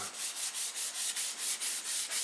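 A guitar body is sanded by hand with 800 to 1000 grit sandpaper, making a close, steady rasping scrub in even back-and-forth strokes, about five per second.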